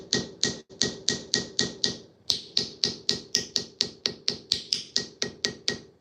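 A hammer taps brass pins into a knife scale in a steady run of about twenty crisp, close, sharp strikes, with one short pause early on.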